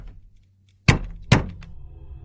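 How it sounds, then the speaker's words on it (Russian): Two loud, close knocks on a window, a quick pair of hard thuds a half-second apart that break a near-silent night room. "О боже, я не могу думать об этом стуке."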